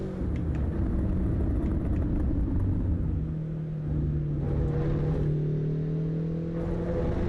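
Race car engine in Assetto Corsa Evo holding a steady, loud droning note with rising and falling pitch through gear changes, continuous for the whole stretch with no talking.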